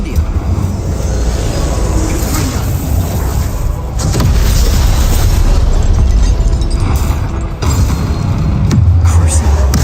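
Spell effects from the Hogwarts Legacy video game, a loud continuous rumble of blasts and crackling magic bursts with deep booming swells throughout, dense and close.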